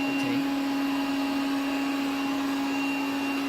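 A robot vacuum cleaner runs with a steady, fairly quiet motor hum and a constant whirring drone, unbroken and alone for a few seconds.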